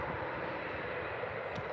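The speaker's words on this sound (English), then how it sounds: "Taxiing onto the runway very, very soon." Airliner taxiing at Birmingham airport before a flight to Edinburgh, a steady broadband engine rumble and whoosh, continuous and moderately loud, with no voices.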